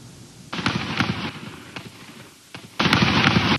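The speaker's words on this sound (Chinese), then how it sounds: "枪声阵阵，几名黑衣枪手朝着教堂不断开枪。" Gunfire during an attack on a church in Dagestan comes in two loud bursts of rapid cracking shots, nearby, separated by a quieter gap.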